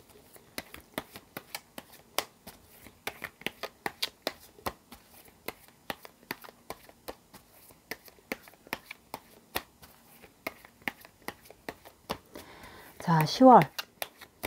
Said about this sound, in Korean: 자, 카드 섞어 볼게요.